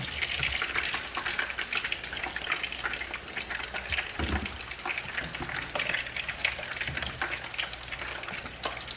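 Fried rice being stirred and tossed in a hot pan, a continuous dense sizzle with scraping and stirring bursts throughout, close and fairly loud.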